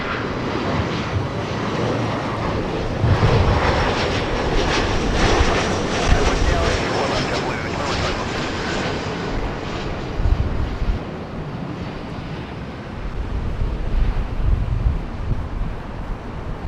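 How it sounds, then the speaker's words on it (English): An airliner takes off from runway 24 left at LAX, a loud, sustained engine roar heard steadily from a distance with wind buffeting the microphone. "There goes our next departure"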